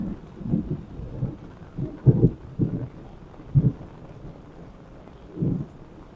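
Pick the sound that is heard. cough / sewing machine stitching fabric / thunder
thunder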